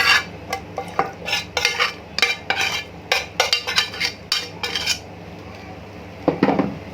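A metal spoon scrapes and clinks against a baking tray as food is scooped out into a small clay pot, a quick run of sharp close taps and knocks followed by a pause and one last clatter.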